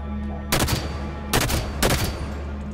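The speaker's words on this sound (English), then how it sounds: "And who's shooting me at distance?" Rapid bursts of gunfire in Halo 5: Guardians crack out in three short volleys over a low, steady game background.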